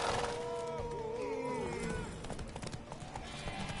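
Horse hooves clip-clop in a video game with a brown horse, under game voices and melodic tones. Soft, rhythmic hoofbeats run throughout.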